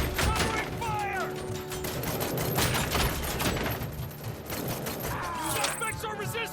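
Sustained covering gunfire in the RoboCop: Rogue City video game, dense rapid shots and mechanical clatter running continuously, with game voices and chirpy electronic effects layered over the shooting.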